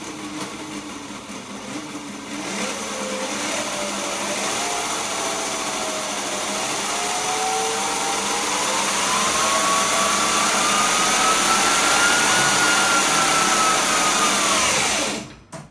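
A DIY 8000W 48V electric go-kart motor spins up on its own, its whine climbing steadily in pitch over about twelve seconds under a steady loud hum, then cutting off sharply near the end.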